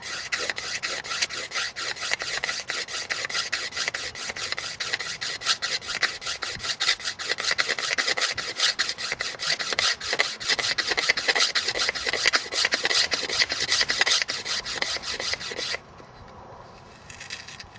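A blade scrapes through the outer coating of a piece of wood to make fire-starting tinder, giving fast rhythmic rasping strokes close up that stop near the end.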